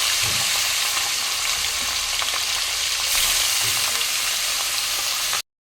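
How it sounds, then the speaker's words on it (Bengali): Fish frying in hot oil for a Bengali chorchori, with a dense, steady sizzle and crackle close by throughout that cuts off abruptly at the end. "তেল গরম হয়ে গেছে, এবারে মাছ দেবো।"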